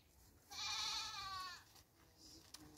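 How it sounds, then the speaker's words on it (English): A goat in a village lets out a single loud, wavering bleat lasting about a second, followed by quieter background sounds. "what's wrong with this goat?"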